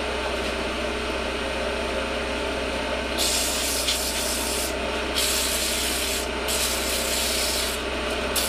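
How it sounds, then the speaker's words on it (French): Steady abrasive rubbing of sandpaper against a turned wood Louis-Philippe style table leg spinning on a lathe, with a constant low motor hum underneath and the sanding hiss swelling and easing in strokes. "maintenant j'ai plus qu'à poncer"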